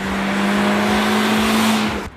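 A Seat Ibiza Cupra petrol engine revs high during sporty driving, a loud sustained drone with a steady pitch and road roar that cuts off abruptly near the end.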